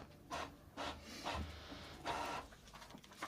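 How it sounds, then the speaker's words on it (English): A dot matrix printer printing in short rasping bursts, several uneven passes at close range with brief pauses between them. "That sounds like a dot matrix printer."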